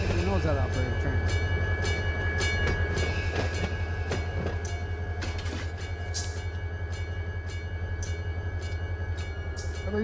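A freight train runs in the Run 8 train simulator game, its steady low rumble and rail noise continuous and loud throughout, with periodic clicks over the top.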